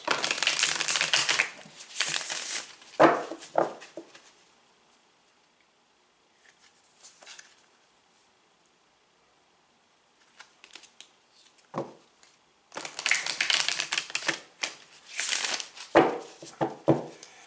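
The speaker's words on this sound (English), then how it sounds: "we'll shuffle it up a few times" Tarot cards riffled and shuffled in several bursts of rapid papery flutter, separated by quiet pauses and soft handling.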